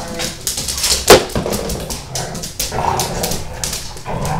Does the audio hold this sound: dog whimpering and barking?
yes